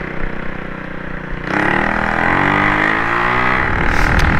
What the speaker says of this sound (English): There's a lot of traffic on the road today